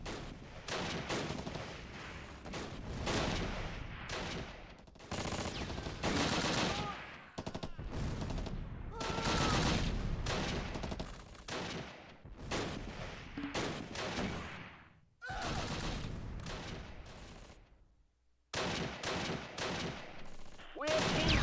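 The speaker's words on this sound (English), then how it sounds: "We're under heavy fire." Heavy WWII battlefield gunfire in Close Combat: Last Stand Arnhem: repeated loud bursts of rifle and machine-gun fire with brief gaps between volleys, carrying on for about twenty seconds, with faint voices mixed into the clamor.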